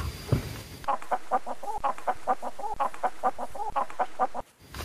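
A red and white chicken clucks in a steady, rapid series of short calls, close and clear with no talking over it.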